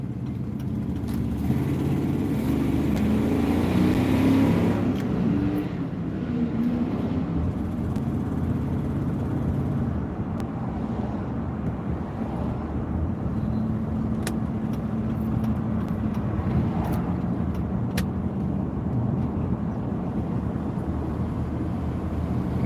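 A hearse engine drones steadily, swelling louder around the start before settling into a constant hum, with no one speaking.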